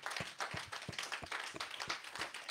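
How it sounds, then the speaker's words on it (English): A church congregation claps rhythmically for Jesus, a steady run of quick, fairly faint claps from many hands blending into a lively, even beat with no talking over it. "Clap for Jesus."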